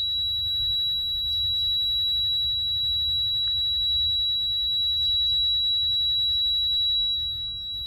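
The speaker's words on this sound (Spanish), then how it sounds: "Tanto tiempo seguido escuchándose el pitido" A continuous high-pitched electronic beep drones steadily throughout in a quiet forest, over a low constant rumble, with faint scattered bird chirps.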